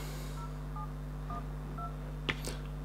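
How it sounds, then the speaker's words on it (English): Samsung Galaxy A3 smartphone keypad tones as a phone number is typed in, four short evenly spaced beeps over a steady low hum, followed by a brief louder tap or click near the end. "so begin typing out the number"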